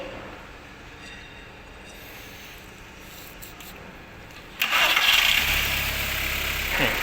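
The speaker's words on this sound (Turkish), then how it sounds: "Motorumuzun çalışması gayet sağlıklı saat gibi çalışıyor." An engine fitted with a throttle body butterfly cranks to life partway through and then runs steadily and loudly, a smooth even drone after a quieter stretch of background noise.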